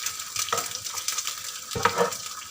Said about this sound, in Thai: อันนี้เป็นข้าวผัดเนาะ